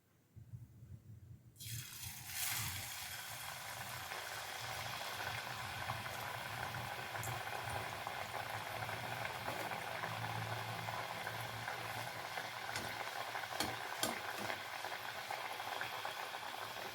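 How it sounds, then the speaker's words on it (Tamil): Crispy snack dough deep frying in hot oil, a steady bubbling fizz that begins abruptly after a short quiet start and carries on evenly and close with no talking. "இதை எண்ணெயில் போட்டு எடுத்துக்கலாங்க"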